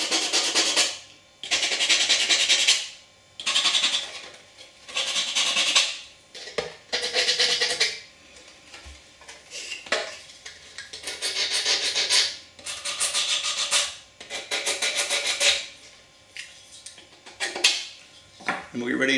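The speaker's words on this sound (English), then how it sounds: "you just need to clean up the phenolic plates a little bit with the sandpaper" Sandpaper rubs the rough edges off phenolic plates in repeated bursts, each stroke a loud, close, hissing scrape, separated by short pauses in a fairly regular rhythm.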